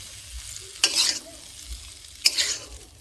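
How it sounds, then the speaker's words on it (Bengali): Shrimp stir-frying in a pan, a faint steady sizzle with two distinct scraping stirs of a utensil about a second and a half apart. "চিংড়ি মাছটা হালকা নাড়া হয়ে গেছে, এবার তুলে নিচ্ছি।"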